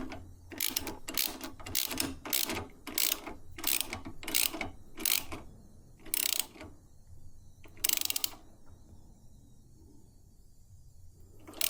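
Rapid ratcheting clicks from a hand wrench tightening crash bar bolts on an adventure motorcycle, coming in short bursts with brief pauses and a quieter stretch near the end, close up.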